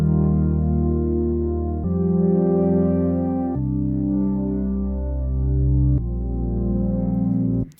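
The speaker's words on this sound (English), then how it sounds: "It's actually just retro synth with this plugin or this preset called Plectrum Keys" Dry Plectrum Keys preset on the Retro Synth with all other plugins removed: sustained, warm plucked-keys chords change four times in close, loud succession, ending abruptly with no voices.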